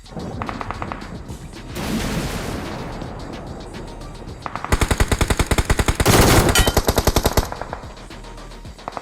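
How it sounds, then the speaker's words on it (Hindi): Automatic gunfire in the BGMI PUBG Mobile video game, with bursts of rapid machine-gun shots, a heavier blast, and then a long sustained volley, loud and close, with no talk over it. "और ये पोरा उनके ऊपर चला रहा है गोली।"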